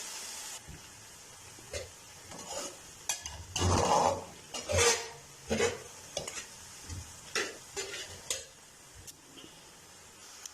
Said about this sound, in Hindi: अच्छी तरह टमाटरों को जो है भून लेंगे 3 से 4 मिनट के लिए।